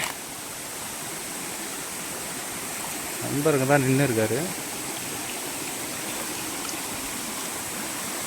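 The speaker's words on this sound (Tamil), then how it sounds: "அருவிக்கு வந்தாச்சு" A forest waterfall at Puthur Nadu roars with a steady broadband rush throughout, while someone speaks briefly partway through.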